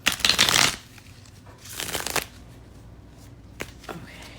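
A deck of tarot cards is shuffled up close in two crisp, riffling bursts a little over a second apart. A few soft card taps follow in a quiet room.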